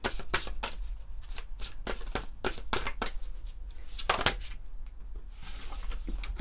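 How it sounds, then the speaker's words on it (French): Oracle cards being shuffled by hand in a quiet room, a run of crisp, rapid riffling bursts and soft slaps repeating close up with brief pauses between them. "Allez, on va prendre une autre carte."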